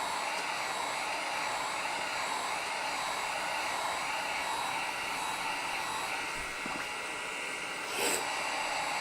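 A hair dryer blows steadily on a craft project, a constant close whirring hiss that holds level throughout, with a brief shift in airflow near the end and no talking.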